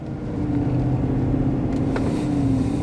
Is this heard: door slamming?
no